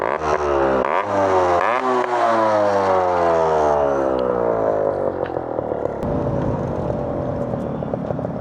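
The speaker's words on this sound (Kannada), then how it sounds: "ಗಾಡಿಗೆ ತುಂಬ ಜನ ಮೇಜರ್ ಫ್ಯಾನ್ಸ್ ಏನಕ್ಕೆ ಅಂತಂದರೆ ಈ ಎಕ್ಸಾಸ್ಟ್ಗೋಸ್ಕರ. Exhaust sound" Yamaha RX 100 two-stroke motorcycle revving loudly up close, the exhaust rising in sharp pitch sweeps and falling back, then settling into a rough, crackling idle.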